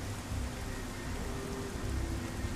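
Steady rain hisses in a wet outdoor scene of the video game Nioh Remastered, a continuous broadband wash with a low rumble beneath and no voices.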